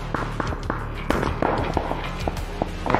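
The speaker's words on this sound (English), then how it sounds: "There's three different directions of shots happening." Gunshots ring out from several directions in a video game: a scattered series of sharp, cracking reports, some near and some more distant, popping irregularly over about three seconds amid faint footsteps.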